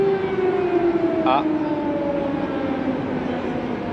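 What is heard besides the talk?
civil defense air raid siren in Kyiv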